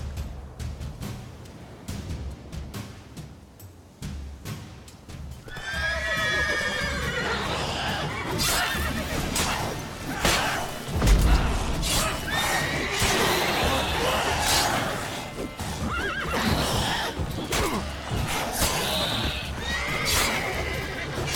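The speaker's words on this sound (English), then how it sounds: "Horse is getting loud." Horse neighs and whinnies with galloping hoofbeats in The Witcher 3 video game, loud and up close, the whinnies repeating over a steady rumble of game ambience.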